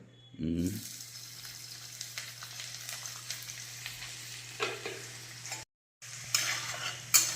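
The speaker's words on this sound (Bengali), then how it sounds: "তেলের উপরেই আমি দিয়ে দেবো কুচনো রসুন।" Chopped garlic fries in oil in a pan with a quiet, steady sizzle, broken by occasional stirring scrapes and a brief silent gap near the end.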